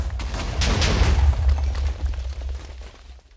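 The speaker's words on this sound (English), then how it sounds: "Oh, that was a decent explosion." An explosion in the video game Minecraft gives a loud rumbling boom with crackling debris that fades out over a few seconds.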